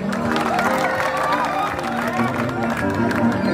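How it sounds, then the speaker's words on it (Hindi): Crowd at a wedding celebration clapping loudly and steadily, dense applause with cheering and babble mixed in, a voice talking over it. "एक बार जोरदार ताली बाजिए हमारा बहन खातिर"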